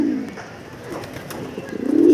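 Pigeons cooing in a loft, soft throaty coos rising and falling close by, swelling louder toward the end, with faint background noise.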